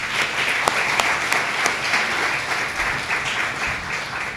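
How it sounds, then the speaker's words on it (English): An audience at a Queens County Women's Bar Association gathering applauds the outgoing president, giving a steady, full round of clapping throughout with a few sharper individual claps standing out and no talking. "she also deserves a round of applause"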